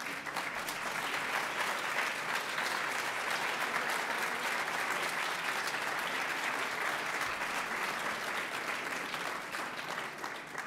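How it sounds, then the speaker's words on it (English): A large event audience in a hall applauds steadily as some stand, a continuous wash of many hands clapping at an even level throughout, with no break. "please stand and let's give a round of applause to those good folks."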